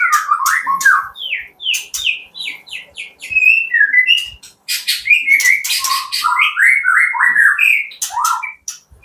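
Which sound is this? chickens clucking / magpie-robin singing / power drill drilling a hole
magpie-robin singing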